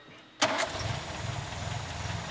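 Classic MGA sports car engine cranked by its starter, quiet at first, then catching abruptly with a loud burst and settling into a steady, close, pulsing idle.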